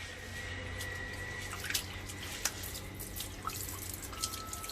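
Water is poured into an aquarium filter pipe during tank cleaning. It makes a soft, quiet trickle with a few scattered drips and splashes standing out.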